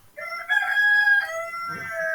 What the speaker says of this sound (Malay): Sorry lah kat rumah punya ayam